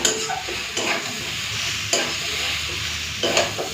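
Cabbage fries in a pan with a soft, steady sizzle up close, punctuated by a few scraping stirs of a spatula.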